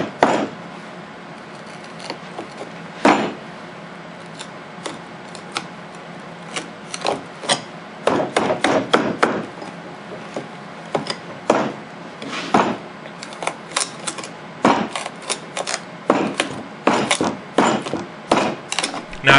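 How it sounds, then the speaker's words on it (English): A Benchmade 375 Adamas knife stabbing and prying into wood with and against the grain, irregular sharp thuds, cracks and creaks that grow denser and faster over time, close and alone. "Now I will stab and pry with and against the grain during this test."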